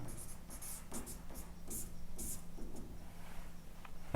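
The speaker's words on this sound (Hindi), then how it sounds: "उपपत्ति लिखते हैं।" A pen scratches across paper in short rhythmic strokes as a geometry proof for a Class 9 triangle exercise is written out, close and steady under a low background hum.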